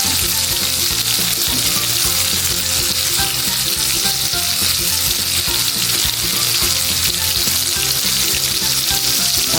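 Beef rib steak with garlic and rosemary fries in a pan, a loud, steady sizzle and crackle running unbroken throughout with no voices.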